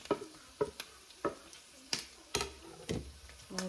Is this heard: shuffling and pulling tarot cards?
no